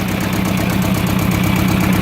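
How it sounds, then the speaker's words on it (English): An Allis Chalmers 5020 two-cylinder diesel tractor idles close by, a loud, steady, pulsing knock that repeats evenly throughout. "It's an Allis Chalmers 5020."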